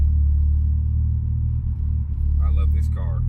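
A Lexus LS400 fitted with a 1JZ engine runs at a steady idle, producing a deep, constant rumble close by, with a voice speaking briefly over it near the end.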